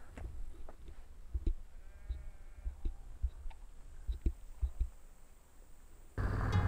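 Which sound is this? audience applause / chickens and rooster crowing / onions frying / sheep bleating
sheep bleating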